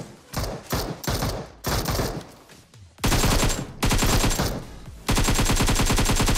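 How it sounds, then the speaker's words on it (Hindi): Rapid boat gunfire in a video game at a military base, dense bursts of automatic shots crackling continuously and loudly, with louder sustained volleys in the second half. "सामने से बोट फायरिंग की साउंड आ रही है मेरे को"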